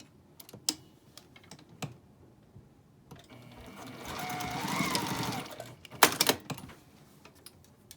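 A sewing machine stitches down the end of elastic on a fabric scrub cap, a steady mechanical whirring burst of about three seconds in the middle, with scattered clicks and taps before and after and a short clatter near the end.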